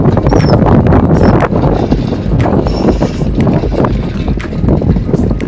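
Strong wind buffets the microphone in a loud, continuous low rumble with gusty surges throughout.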